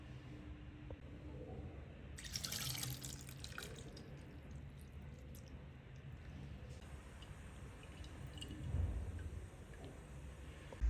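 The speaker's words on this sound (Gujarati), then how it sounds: "તો હવે આપણે એને પાણી કાઢી લઈશું" Soaked sago pearls being drained give soft, fairly faint trickling and dripping water, with a brief louder splash of pouring and some wet squishing, and no speech.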